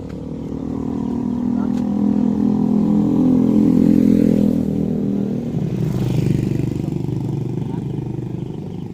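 A motorcycle passes close by, its engine swelling to a loud peak mid-clip then fading away, with some clatter alongside.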